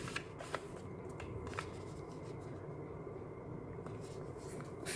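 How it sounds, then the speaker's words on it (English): Paper being folded into an origami peacock, with soft crinkles and crisp rustling and a few sharper creasing snaps, close and quiet. "we're gonna fold it like this and take the other flap and do the same thing"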